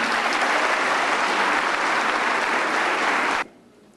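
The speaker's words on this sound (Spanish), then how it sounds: "para quien tiene un fuerte aplauso" An academic forum audience at a Quito university applauds a lawyer speaker, producing a loud, dense burst of clapping that holds steady for over three seconds and then cuts off abruptly into near silence.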